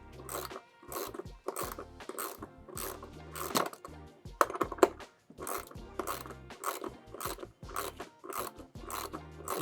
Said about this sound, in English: you're just going to crank that down until it completely gets really hard and you can't go any tighter